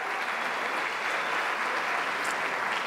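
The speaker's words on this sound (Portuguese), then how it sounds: "dê um aplauso para Jesus" A church congregation claps for Jesus during a sermon, a steady, unbroken wash of applause at moderate level that fills the whole moment without any speech.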